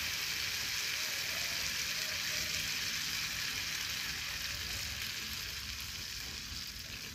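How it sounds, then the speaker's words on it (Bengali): Steady, loud, close sizzling hiss of mackerel and papaya curry frying in a pan, continuing as water is added, with the frying fading slightly toward the end; no speech. "তো এখন আমি জল দিয়ে দেবো"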